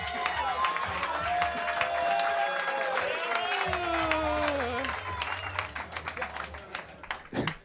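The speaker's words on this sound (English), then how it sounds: "Clap it up for Katie Hannigan." Comedy roast audience applauding a comedian introduced from Indiana, steady clapping and crowd noise under a host's voice, fading into scattered claps near the end.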